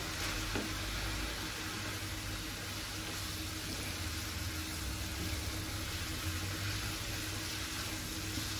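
Vegetable bhaji frying in a pan on a home stove, a steady close sizzle that hisses unbroken throughout with faint stirring underneath.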